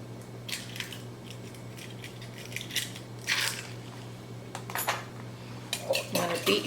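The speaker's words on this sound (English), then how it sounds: "You want to beat your eggs up really well." Eggs beaten for a pumpkin pie filling: a utensil clatters against a bowl in quick uneven bursts, growing busier toward the end, with a low background hum.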